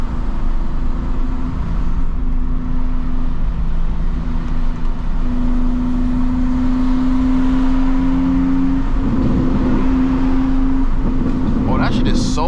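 A 650HP manual BMW M2 cruising an open New York City highway, heard as a loud steady engine drone from inside the cabin, with the pitch climbing gradually under acceleration and a voice over it near the end.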